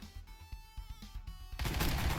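Video game gunfire in Gunnheim, a quick burst of sharp shots followed by a dense, noisy blast of sustained firing, fairly close and loud.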